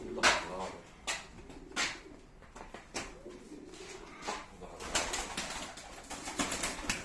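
Arab breed pigeons coo in repeated soft bursts at close range, layered over a steady background of rustling and bird noise, with a few louder calls standing out.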